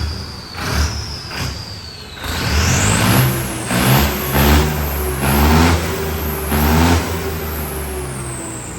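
A heavy tractor engine, converted from a rotary to an inline pump and fitted with a big intercooler, revs up several times in quick succession, rising and falling loudly and close by, with a steady idle rumble between bursts.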